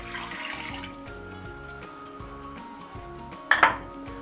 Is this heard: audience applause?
no